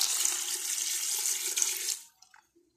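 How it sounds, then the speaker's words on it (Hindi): One litre of water is poured into a pressure cooker for a trotters curry, a close, steady splashing gush that stops abruptly after about two seconds, followed by a few faint drips. "ये मैंने इसमें 1 लीटर पानी डाल दिया।"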